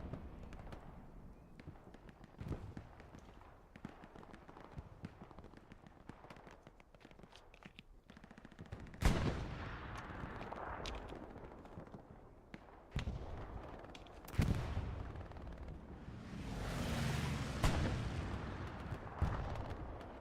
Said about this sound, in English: Jaeger is having fun with the MG.